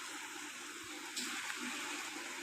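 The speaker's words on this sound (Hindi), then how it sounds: "ये मूसलाधार बारिश सुबह से जारी है। ये आप पानी का फ्लो देख सकते हैं" Steady broadband wash of heavy downpour and rushing rainwater, a continuous close roar of water running and splashing outdoors with no voices.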